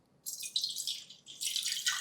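Excess water splashes and trickles steadily as it is poured off soaked poha batter, a bright continuous hiss with a short pause midway.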